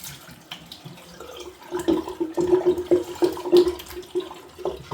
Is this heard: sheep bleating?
no